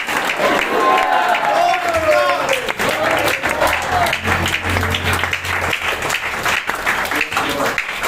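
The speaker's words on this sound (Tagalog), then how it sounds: "Ito kami palakpakan na." A church congregation at a worship service claps and cheers together, loud and continuous throughout, with voices calling out and talking over the applause.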